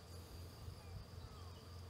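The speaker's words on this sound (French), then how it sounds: "Et toute cette vie comme ça qui bourdonne, qui chante." Insects such as bees and flies buzzing around raspberry flowers in a forest garden in May, a faint continuous drone with small swelling passes close by, with a quiet hum steady underneath.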